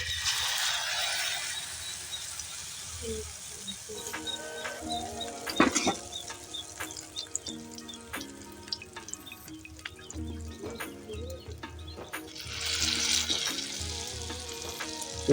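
An egg frying in a pan gives a steady, moderate sizzle throughout, with scattered sharp pops and clicks and a brief louder burst midway. No one speaks.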